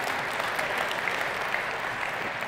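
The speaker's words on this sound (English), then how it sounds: "feel free to interrupt any of us with applause anytime today" Audience applause at a SuiteWorld 2019 conference general session, dense and steady clapping from a large crowd that fills the whole stretch at an even level without letting up.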